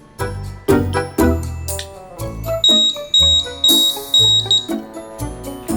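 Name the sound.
battery smoke detector alarm beeping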